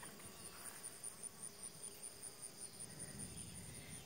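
Small native bees buzz faintly among plants outdoors, a thin, high, steady drone with soft pulsing, heard alone without talk.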